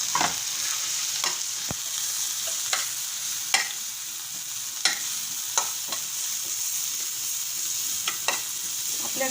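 Chopped mint is stirred into a potato vada filling in a sizzling pan, producing a constant soft frying hiss. Occasional spoon scrapes and taps come through up close.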